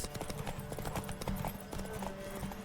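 Rapid clip-clop of horse hooves galloping in The Witcher 3, a steady driving rhythm that stays loud and close for the whole stretch, with game music and ambience underneath.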